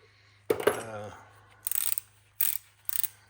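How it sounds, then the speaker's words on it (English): Snap-on ratcheting wrenches are worked by hand, one longer burst of ratcheting followed by three short rapid clicking runs, close and crisp against a quiet background. "I actually really like the ratcheting wrenches."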